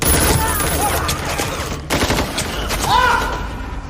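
Rapid bursts of gunfire in a film shootout, overlapping shots crackling close and loud amid other battle noise, with voices mixed in.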